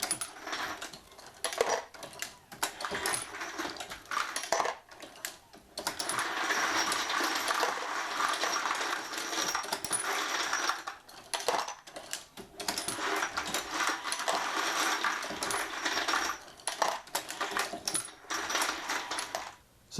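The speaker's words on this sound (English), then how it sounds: "let's go ahead and start our bulk brass pre-prep with the Lock-N-Load AP" Hornady Lock-N-Load AP progressive press running lubed bulk brass from a case feeder, with steady clattering, clicking mechanical cycling and brief pauses between strokes.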